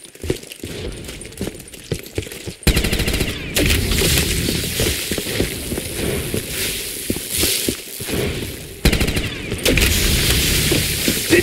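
Gunfire in a custom Call of Duty Zombies map, with loud sustained bursts of shots broken by short gaps and scattered single shots, set against game effects.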